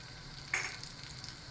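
A knob of butter drops into a pan with a little oil, heating for a creamy chicken roll; a sudden sizzling burst flares up, then settles into a faint, steady hiss.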